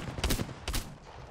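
Two sharp bursts of video game gunfire, close and loud, each a brief crackling volley, separated by a short pause with no talking.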